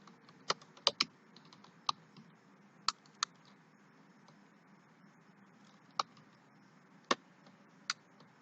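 Keys tapped on a computer keyboard while coding in C#, about a dozen sparse, sharp clicks at uneven intervals, close and quiet, no talking.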